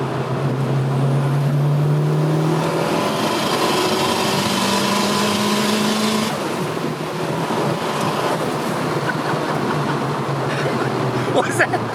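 An old car, a first car revived after six years of sitting, accelerates hard in third gear; a loud engine roar climbs steadily in pitch for about six seconds, then drops off into a rougher, lower drone with wind and road noise.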